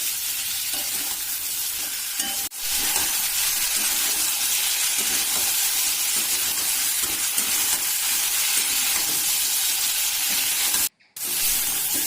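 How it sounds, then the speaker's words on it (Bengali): Raw banana and potato pieces sautéed with masala over low heat for a Bengali fish curry, a steady soft sizzle with scraping stirs throughout, one brief clatter near the start and a sudden short drop to near silence toward the end. "এবারে মশলার সাথে সমস্ত কিছু খুব ভালোভাবে আমরা কষিয়ে নেব, হালকা আঁচে ঢেকে ঢেকে।"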